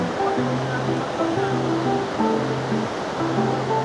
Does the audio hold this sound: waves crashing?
yes